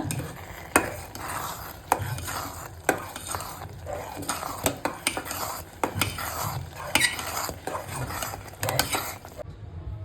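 Sweet chakkera pongal with cardamom powder is stirred in a pot on the stove, with close, sharp metal spoon clanks against the pot, scraping strokes and a faint sizzle repeating throughout.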